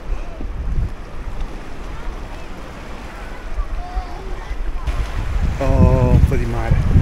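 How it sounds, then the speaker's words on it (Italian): Steady wind buffets the microphone at the seaside, with a continuous rumble of sea waves underneath. Near the end a voice speaks briefly over the noise. "Oh, finalmente un po' di mare."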